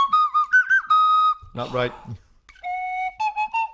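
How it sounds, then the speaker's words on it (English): Slide whistle blown in short rising and falling glides, then a burst of laughter-like voice noise, followed by more sustained sliding tones, close and loud with talk in the background. "Are you going to go practice your slide whistle?"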